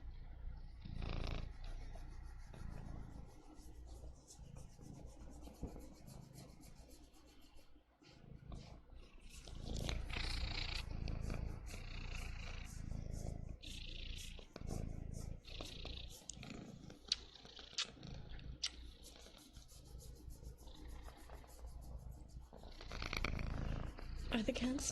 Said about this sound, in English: Can you hear his purrs?